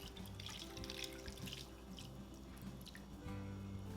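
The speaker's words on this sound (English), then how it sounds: "I'm gonna filter the shrimp stock with a cheesecloth and a strainer." Shrimp stock poured through a cheesecloth and strainer, a soft, steady trickle and splash of liquid with light dripping, quiet and continuous without speech.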